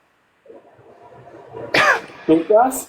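A few harsh coughs close to the mic after a low murmuring voice, building into two or three throaty bursts.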